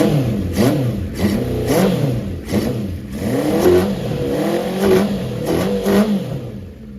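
A Honda CB550 motorcycle engine runs after its leaking carburetors were repaired, a close, loud idle blipped with repeated throttle revs rising and falling throughout, no talking.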